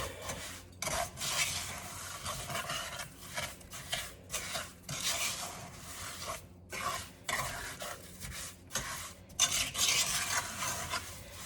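A spoon scrapes and swirls through melting English toffee mixture in a pot, close up, in repeated strokes with brief pauses between them and no talk.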